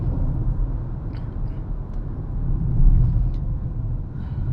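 A Maruti Suzuki Grand Vitara hybrid car slows to a stop, heard from inside as a steady low road and engine rumble that swells briefly and then eases off, with no talking.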